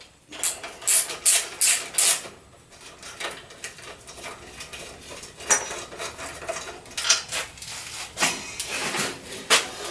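Metallic clanks and rattles come from a bolt being worked out of a Harbor Freight Bauer bandsaw stand, a burst of sharp ringing knocks followed by irregular scraping and clinks.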